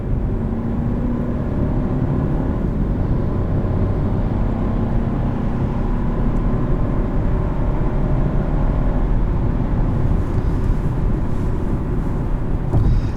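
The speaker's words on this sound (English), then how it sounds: "And the turbo 3-cylinder is a very peppy motor." The turbocharged three-cylinder engine of a 2021 Chevrolet Trailblazer LT drones steadily while driving, a continuous low rumble mixed with road and cabin noise, with no talking.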